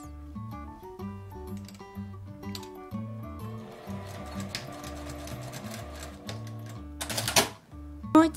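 Sewing machine stitching along a folded fabric edge, a rapid mechanical clatter in short bursts separated by pauses, close and clear, with one sharper louder rattle near the end.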